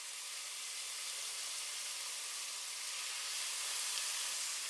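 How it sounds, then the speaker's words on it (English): Marinated beef cubes sizzling in hot oil in a pan on high heat for a Korean dish, a steady, even hiss with no talking. "Add the marinated beef cubes to the oil one by one and allow them to sizzle in"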